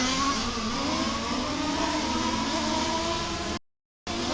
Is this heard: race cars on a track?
yes